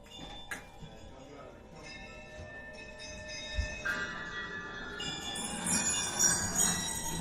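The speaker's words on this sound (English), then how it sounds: "I just have some bells, and the first thing I can do is just play it on its own" Bright, ringing bell tones from a bell sample played on a keyboard sampler, struck one after another, overlapping as they layer and rise in pitch, with a faint hum underneath.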